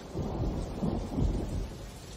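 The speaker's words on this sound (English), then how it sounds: "Thunder in the distance." A deep, rolling rumble of thunder sounds from far off, swelling and fading over a steady wash of rain.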